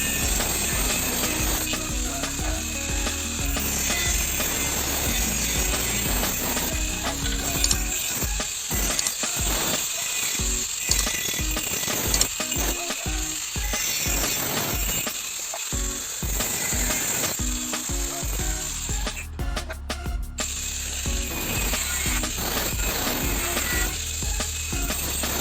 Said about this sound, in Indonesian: saya memotong baja ringan untuk digunakan dobelan tersebut